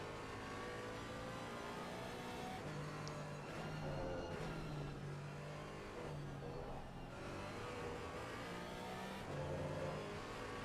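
Race car on the Hungaroring circuit during a coaching session, its engine note dropping through downshifts under braking: a loud, continuous mid-pitched engine drone with stepped shifts in tone, heard from inside the car.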